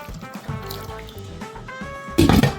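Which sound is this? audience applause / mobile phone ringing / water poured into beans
water poured into beans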